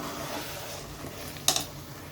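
Mutton sautéing in a pan for biryani gives a soft, steady sizzle, with one brief clink of a utensil against the pan partway through.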